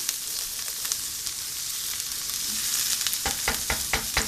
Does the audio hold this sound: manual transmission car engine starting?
no